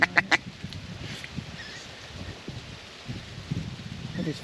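Several sharp wild duck quacks burst out at the start, followed by softer, scattered quacking and rustling outdoor noise further off.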